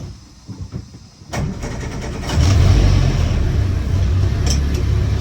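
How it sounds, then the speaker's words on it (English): A Land Rover Series 1 88in engine cranks briefly after quiet clicks, fires up at once and settles into a loud, steady idle with a short rev, heard close by. "Starts on the button, starts well whether this one's hot or cold"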